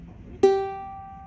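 Century S-218 ukulele picked once, a single bright close note with a crisp attack that rings and slowly fades, heard alone.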